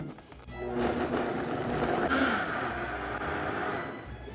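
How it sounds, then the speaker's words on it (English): Blender whirring steadily as it purees a salsa verde of chiles de árbol and cilantro, a loud continuous motor hum with churning liquid, running alone without talk. "all that's left to do is blend until completely smooth"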